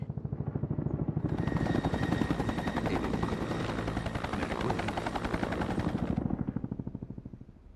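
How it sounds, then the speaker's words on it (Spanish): Helicopter in the video game XIII, a loud rapid chopping rotor beat that swells in, holds steady with a high whine layered on top, then thins and fades toward the end. "el helicóptero, el helicóptero"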